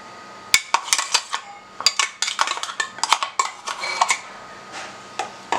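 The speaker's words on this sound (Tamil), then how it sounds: "இப்போ வந்து இது நல்லா சூடாக இருக்கும் போதே வந்து நம்ம விஸ்கு வச்சு நல்லா கலந்து விட்டுட்டோன்னா நல்லா மாம்பழம் கலந்துரும்." A whisk clatters and clinks against a metal pot as mango is stirred into hot milk for mango masala milk, quick irregular metallic taps close up with no talking.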